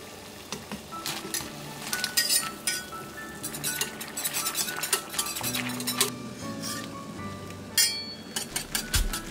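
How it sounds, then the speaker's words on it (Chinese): Small diced noodle pieces stirred quickly in a pot of boiling water, with repeated metallic clinks of a utensil against the pot over a bubbling, sizzling background. "水烧开后下面丁儿要快速搅拌"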